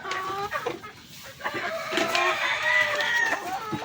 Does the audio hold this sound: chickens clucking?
yes